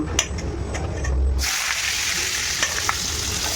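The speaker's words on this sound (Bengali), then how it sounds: "তারপর আলু পেঁয়াজটা একটু লাল করে ভাজবো" Potatoes and onions hitting hot oil, with bay leaf and panch phoron, in a pan for cabbage with small shrimp: a loud sizzle swells as they go in, then steady frying with a few stirring scrapes.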